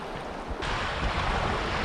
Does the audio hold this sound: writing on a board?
no